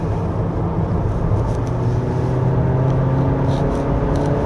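A 2024 Honda Accord 1.5 Turbo driven briskly along a winding road in economy mode with the gear in S, heard as a steady, loud cabin drone of engine and road noise that continues unbroken throughout.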